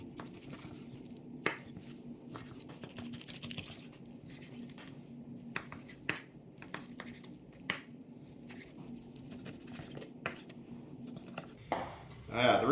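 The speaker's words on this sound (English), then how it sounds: "Now we're going to cut up a 5-pound leg of lamb" A knife working through a five-pound leg of lamb on a cutting board, with quiet repeated taps, scrapes and clinks of metal at an uneven pace and a louder clatter at the very end.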